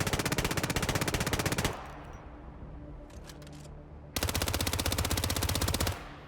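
Mark II weapon firing in the Hitman video game, two loud bursts of rapid automatic gunfire with a quieter gap of room tone and faint clicks between them.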